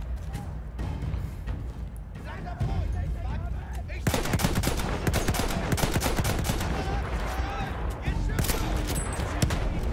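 Bursts of rapid gunfire from the video game Battlefield 1, quieter and sparse at first, then dense loud volleys crackling for several seconds, with a voice talking over it.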